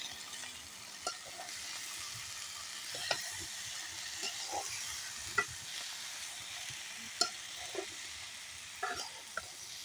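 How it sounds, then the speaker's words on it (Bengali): Vegetables with turmeric and chili frying in a pan in a village kitchen, a soft continuous sizzle broken by irregular scraping clicks from a stirring spoon, close and fairly quiet, with no talk. "হলুদ মরিচটাও দিয়ে দিলাম মানে সবজিটা নাড়াচাড়া দিয়ে দিই ভাজা ভাজা হইব"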